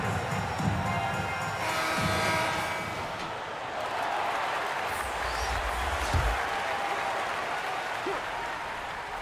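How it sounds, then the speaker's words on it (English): Crowd applause and cheering in the WNBA 2K23 basketball video game during a Los Angeles Sparks timeout, a broad steady arena roar with some bass thumps beneath, continuing throughout. "All right, fans, let's give some applause for your Los Angeles Dancers."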